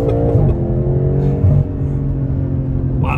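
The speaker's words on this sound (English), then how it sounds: "driving the M8 competition" A BMW M8 Competition accelerates on a road, its engine giving a deep, loud rumbling drone with a brief pitch rise and shift midway, heard from inside the car with no talking.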